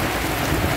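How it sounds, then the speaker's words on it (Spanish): Dense, heavy rain roars steadily during a mountain bike ride toward Santa Marta, a loud unbroken hiss of drops with no voices. "Está lloviendo bastante, bastante duro."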